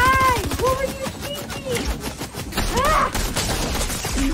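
Rapid bursts of gunfire in the Fortnite video game rattle in quick rhythmic volleys, mixed with game music tones and excited voices talking over them.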